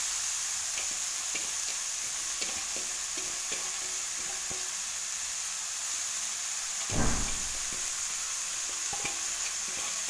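Chopped raw papaya stir-fries in a pan for a home-style thoran, giving a continuous hissing sizzle with scattered stirring scrapes and one louder clatter of the spatula. It runs steadily throughout with no talking.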